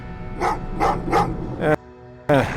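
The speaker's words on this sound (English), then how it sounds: "Well, what's with the dogs?" Dogs in Terminator: Resistance bark in three quick, evenly spaced bursts followed by a sharper yelp, loud and close, with a short quiet gap before another bark cuts in.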